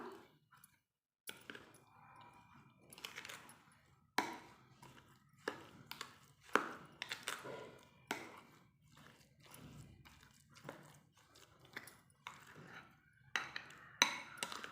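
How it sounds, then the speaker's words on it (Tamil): Semolina and grated coconut batter for sweet kuzhi paniyaram being mixed in a bowl, a series of short soft clicks and scrapes in an irregular rhythm, close and fairly quiet. "இப்போ எல்லாத்தையும் இதில் கலந்து மிக்ஸ் பண்ணிக்கலாம்."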